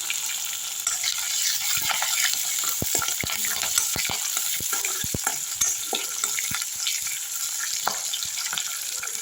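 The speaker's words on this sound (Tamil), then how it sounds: "நல்லா வதக்கி விட்டுடலாம்" Steady sizzling of ginger, garlic and green chilies sautéing in a pan for rava upma, with scattered clicks and scrapes of stirring throughout, no voices.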